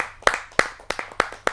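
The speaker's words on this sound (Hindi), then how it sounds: "रोशन बलूने जी को मैं आमंत्रित करता हूं आप सबकी जोरदार तालियों से।" A small audience claps at a Hindi poetry gathering, a handful of distinct, sharp claps in a loose, uneven rhythm, close and fairly loud in a quiet room.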